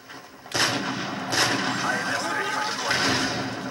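Sniper rifle shots in a video game, two or three sharp loud cracks a second or so apart, each with a rolling echo tail, under game ambience and a voice.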